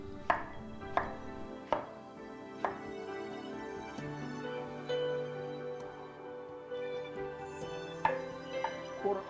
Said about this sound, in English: Just cut it up into cubes.